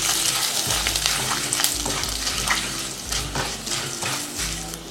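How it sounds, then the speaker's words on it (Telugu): Mustard and cumin seeds frying in hot oil in a pan, a close continuous sizzle with crackling pops and the scrape of stirring. "ఆవాలు జీలకర్రని వేగనివ్వాలి"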